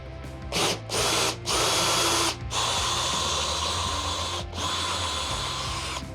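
Power drill boring through stainless steel and wood in a restaurant kitchen while mounting a touchscreen, with a loud close whine that stops and starts in several short bursts before running steadily.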